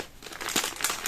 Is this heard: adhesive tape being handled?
yes